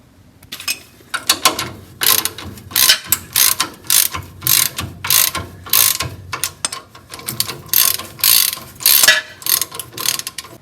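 Ratchet wrench tightening bolts on a VW bus transmission and axle during a restoration, repeated bursts of close, loud ratcheting clicks in short strokes with brief pauses between, no talking.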